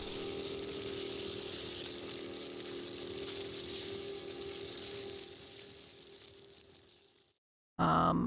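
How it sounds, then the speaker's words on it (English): Continuous roaring crackle of burning fire, steady for several seconds, then it cuts out abruptly before a brief loud burst at the end. "That is the sound of fire."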